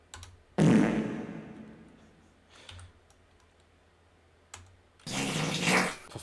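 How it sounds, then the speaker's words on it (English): Fart sound effects triggered repeatedly on a livestream during a Skyrim Special Edition session, two loud, raspy bursts with a quieter one between them, separated by near-silence. "Sorry, I spammed the fart commands"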